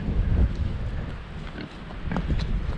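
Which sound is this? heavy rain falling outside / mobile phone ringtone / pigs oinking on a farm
pigs oinking on a farm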